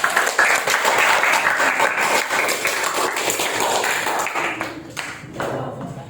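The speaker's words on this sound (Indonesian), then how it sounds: "Silakan tepuk tangan" A school classroom applauds a student group after their presentation, dense clapping from many pupils that holds steady, thins out near the end, then briefly swells again.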